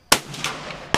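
Two sharp gunshots from target shooting outdoors at Land Between the Lakes in Kentucky, a loud crack at the start and another just under a second later, with a brief echoing tail after the first.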